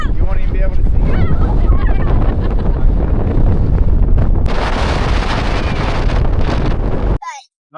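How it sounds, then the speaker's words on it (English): Strong, cold wind at a beach roars steadily into the microphone as broadband buffeting that grows harsher partway through, with possible surf beneath, before cutting off abruptly near the end. "it's really, really, really windy and it's cold"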